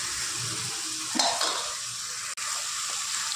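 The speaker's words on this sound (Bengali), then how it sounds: "বেগুনটা দিয়ে দিলাম। এবার খুব ভালোভাবে এর সাথে মেশাবো আমরা।" Mashed roasted eggplant going into a hot pan and being stirred for a winter eggplant bharta, with a steady close sizzle, a brief louder scrape and clatter partway through, and a sharp utensil knock near the end.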